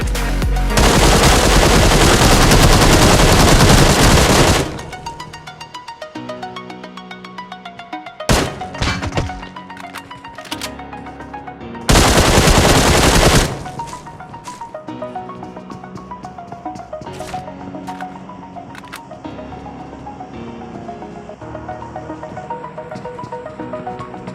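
PUBG gunfire rings out in sustained bursts of rapid automatic shots and sharp single cracks, loud and near, with dense clattering stretches broken by brief quieter gaps and scattered impacts.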